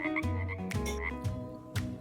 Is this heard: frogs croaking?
yes